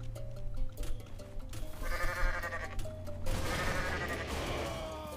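Goat bleating in the Goat Simulator video game, several wavering bleats in succession over busy game sound effects and crashes.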